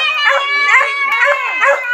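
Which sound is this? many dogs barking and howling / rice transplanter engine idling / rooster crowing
many dogs barking and howling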